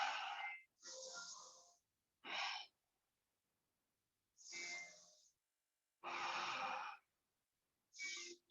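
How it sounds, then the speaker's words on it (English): Deep, slow breaths during a yoga session, six long airy inhales and exhales close to the microphone, each separated by silence, with a raspy, slightly wheezy texture and no talk. "Keep breathing in, breathing out."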